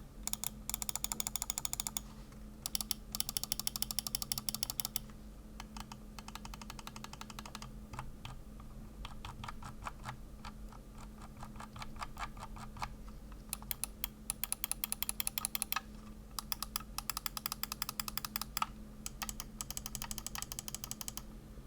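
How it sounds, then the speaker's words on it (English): Logitech G102 wireless mouse buttons clicking in bursts, rapid light ticking clicks in clusters separated by short pauses, close and quiet with a faint background hum. "Now here's a listen to the clicks for quality."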